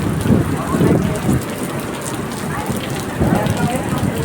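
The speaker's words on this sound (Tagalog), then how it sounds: "Lakas ng ulan." Heavy typhoon rain pours down hard in a constant roar at a resort in Isabela, Philippines, with a voice murmuring faintly through the downpour.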